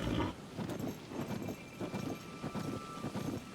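Horse hooves trotting in Tears of the Kingdom on Switch 2, a steady run of soft, fairly close thuds under wind and game ambience.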